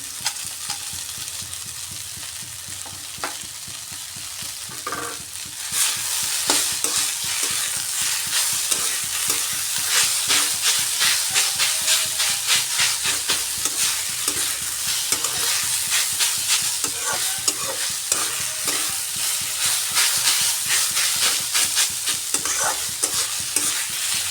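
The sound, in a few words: stirring sweet potato leaf greens with fried bori in a pan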